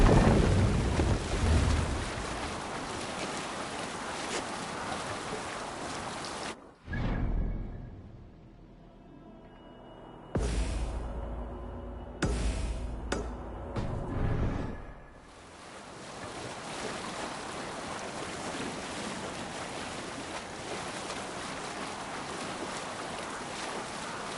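A Viking longship sails at sea in Assassin's Creed Valhalla, with loud rushing wind and surging waves dominating, briefly dropping to quieter creaks and splashes midway before the steady roar of wind and water returns.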